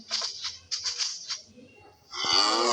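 A Minecraft cow lets out one drawn-out, falling moo near the end, after a stretch of quieter, choppy blocky-game sounds.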